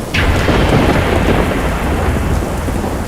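Heavy rain pours down loudly and steadily while a deep thunder rumble rolls through, a dense continuous roar from start to end with no voices.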